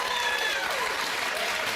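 Studio audience at a daytime talk show breaking into sustained, dense clapping, loud and close throughout, with a voice speaking over it.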